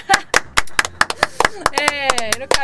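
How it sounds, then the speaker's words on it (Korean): A few people clap in a loose, uneven rhythm of sharp, close hand claps during a casual gaming stream, while a voice talks and rises in pitch over the later claps. "잘 들었어. 박수!"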